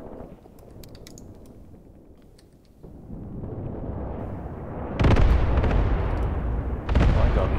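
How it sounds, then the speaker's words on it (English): Artillery fire in Graviteam Tactics Mius Front: faint distant crackle at first, then rising rumbling and two heavy explosive impacts landing close and loud, each rolling on afterward. "Artillery fire."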